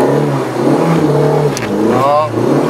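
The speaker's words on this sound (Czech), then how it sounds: "Pomalu pouštíme spojku, přidáváme pomalu plyn" A manual-transmission car in a driving lesson pulls away as the clutch is slowly released and the throttle gently applied. The engine hums steadily and close, with voices talking over it inside the cabin.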